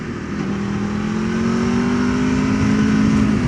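An Aprilia RSV4 Factory superbike engine held at a steady, loud rev close by, its tone climbing slightly over a few seconds with no talking.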